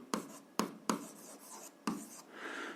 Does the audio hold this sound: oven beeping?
no